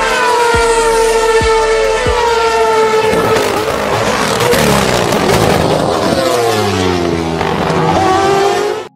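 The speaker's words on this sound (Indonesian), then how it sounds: "Nah ini yang ngebuat suara mobil Red Bull pas nikung jadi beda banget." Red Bull Formula 1 car with a Renault engine cornering, a loud continuous high-pitched engine whine with shifting tones as it slows and accelerates through the turn, sustained for several seconds.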